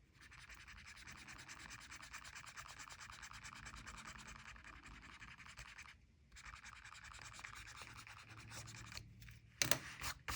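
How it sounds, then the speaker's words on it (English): An eraser rubs back and forth over dried ink lines on paper, a close, soft, steady scratchy rubbing that runs for several seconds, breaks briefly, resumes, and ends with a few sharper handling knocks. "So I'm going to grab my eraser and erase these little lines that I have."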